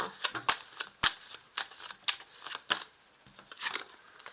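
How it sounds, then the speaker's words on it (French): Tarot cards being handled and drawn from a deck, with soft shuffling, sliding and flicking sounds in an irregular series of close, quiet snaps. "je vais quand même rajouter une carte sur le monde"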